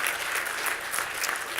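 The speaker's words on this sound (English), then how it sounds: "Can we give a round of applause for our panel?" Applause from a conference audience for a panel at a deep learning and data intelligence session, a steady, dense clapping that fills the room without a break.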